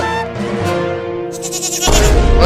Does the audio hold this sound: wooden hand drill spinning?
no